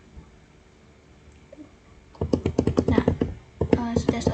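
Close clicking keystrokes on a computer keyboard as a command is typed, a quick run of taps, a brief pause, then a final burst of keys.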